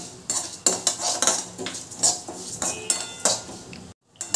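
Fenugreek and cumin seeds roasting in a pan over a low flame, with repeated metallic scrapes and clinks of a spoon against the pan, loud and close, briefly cutting to silence near the end.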